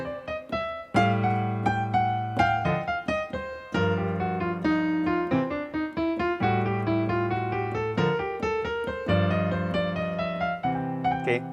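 A jazz piano plays improvised triplet lines over sustained left-hand chords, flowing continuously for several bars, bright and close with no talking.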